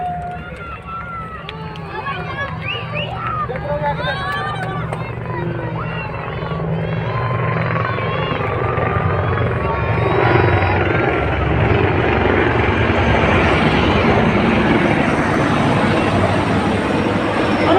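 Prachand light combat helicopters flying in formation over the Republic Day parade on Kartavya Path, a steady loud rotor and engine roar that builds and holds throughout, with a commentator speaking over it.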